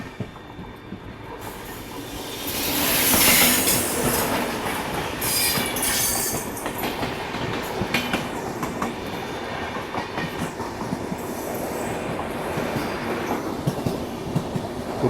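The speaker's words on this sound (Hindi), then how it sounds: "सामने से कोई तो ट्रेन आ रही है।" Riding aboard the Maharashtra Sampark Kranti Express near Godhra, an oncoming train passes close by with a rising roar, a brief high wheel squeal, then a long rhythmic clickety-clack of wheels over rail joints.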